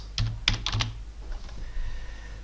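Close, crisp keystrokes on a computer keyboard while entering an email address, a quick run of clicks followed by softer, sparser taps.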